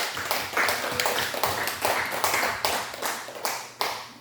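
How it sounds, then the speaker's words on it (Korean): A church congregation claps together during a Sunday morning worship service, a steady run of loud, close hand claps with rhythmic bursts continuing throughout. "감사와 찬송과 영광의 박수 하나님께 드리겠습니다"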